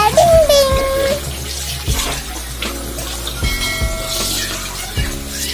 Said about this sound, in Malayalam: ഒഴുക്ക് വെള്ളം ഒഴിച്ച് കഴുകണം നമുക്ക്.